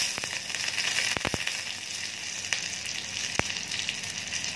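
Dry red chillies and green chillies sizzle steadily in hot oil, a close, continuous frying hiss broken by a few sharp crackling pops.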